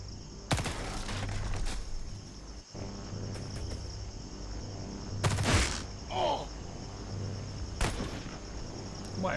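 Gunfire in the Xenonauts 2 strategy game, a few sharp isolated shots spread over several seconds, with clicks and small effects over a steady cricket-like ambient chirp, no voices.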